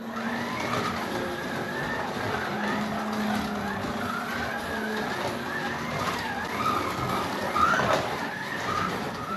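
Modded Mustang GT3 slot car, fitted with a guide upgrade and rear axle kit, lapping a track in a timed seven-lap race, its steady motor whine and tyre hiss running continuously at moderate loudness with faint voices in the background.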